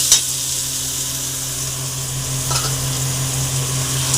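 Onion, ginger-garlic paste and spices fry in a pan for a yogurt chicken dish, giving a steady, close sizzle with faint stirring scrapes and no talking.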